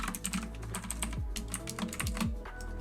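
Rapid, steady typing on a computer keyboard while entering game code for a first-person controller, keys clattering close and continuous with no talk.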